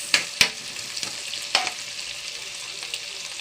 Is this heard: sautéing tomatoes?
yes